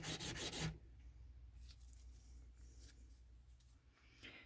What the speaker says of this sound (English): See, I'm sanding down the bottom.